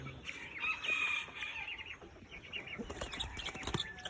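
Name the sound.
Australorp-bantam cross chicken clucking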